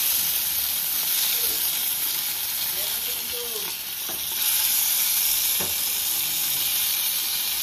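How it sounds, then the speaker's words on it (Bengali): Cumin seeds crackle and sizzle in hot oil for a curry tempering, a loud continuous close hiss with brief clinks and scraping, and faint voices in the background. "দেখো জিরা ফোড়ন দিয়েছে"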